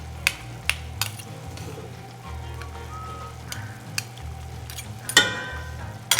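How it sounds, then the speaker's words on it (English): Marinara sauce bubbling and sizzling in a pan while two spoons chop through it in a home cooking class, with a continuous simmer broken by sharp metallic clinks and scrapes. "I'm gonna go in using 2 spoons and just start the chopping process to get a beautifully random texture to our marinara"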